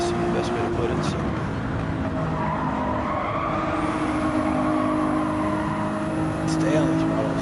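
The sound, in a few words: race car engine at full throttle in a video game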